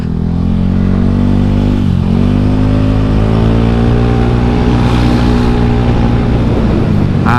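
A stock-engined Honda Scoopy scooter hums steadily while being ridden, a loud, continuous engine drone with a slight pitch dip and recovery partway through and wind rush throughout.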